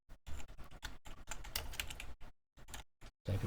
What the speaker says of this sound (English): Typing one-handed.